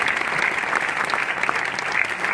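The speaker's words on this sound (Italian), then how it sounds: "gli farei un applauso perché Luca è veramente rimasto con tanto cuore" An audience applauds warmly in tribute to the late actor Luca De Filippo at a film presentation, with dense, steady clapping that holds at an even level from start to finish and no voices over it.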